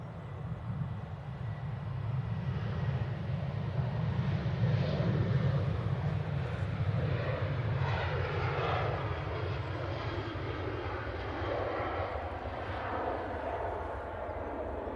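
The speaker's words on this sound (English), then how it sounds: "got a Ryanair going out. Off to Milan, it's a 737." A Ryanair Boeing 737-800 departs Manchester Airport for Milan, its jet engines a steady, distant roar that holds evenly for the whole stretch with no one talking.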